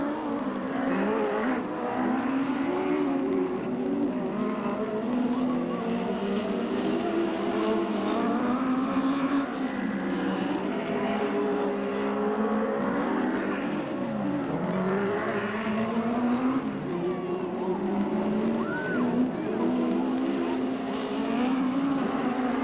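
Race cars roar continuously around the Delta Speedway oval track at a 1997 event, with loud, steady engine drone that rises and falls as the cars pass.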